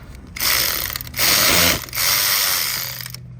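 A quarter-inch drive ratchet with a 10 mm deep socket and wobble extension backs out a 10 mm stud on a car, giving three bursts of fast, close clicking separated by brief pauses, with no talk.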